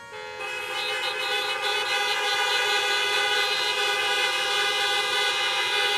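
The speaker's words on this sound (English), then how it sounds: "please again, honk your horn" Many car horns honk together in a long, loud sustained chorus at an outdoor high school graduation salute, overlapping continuously for several seconds.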